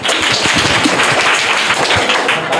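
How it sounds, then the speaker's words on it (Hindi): Schoolchildren at a private school in Bihar applaud a correct answer, with loud, dense clapping from a whole class that carries on without a break. "चलो, आंसर सही है, जोरदार तालियां।"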